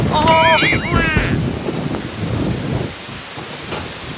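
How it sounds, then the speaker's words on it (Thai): A storm roars with heavy rain and gusting wind, a steady broadband rush with a brief whistling tone near the start. "ลมแรงเลยครับทุกคน"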